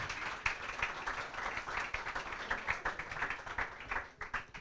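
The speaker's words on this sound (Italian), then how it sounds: "Un applauso alla signora Pina." An audience applauding Mrs. Pina at a futsal event, a moderate spread of hand claps with an uneven pulsing rhythm that carries on for several seconds and tapers near the end.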